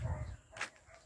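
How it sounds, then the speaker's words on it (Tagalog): Dogs bark from somewhere nearby at a residential construction site during tie beam installation, one brief bark rising over low rumbling background noise. "Iingay ng mga aso doon sa kabila"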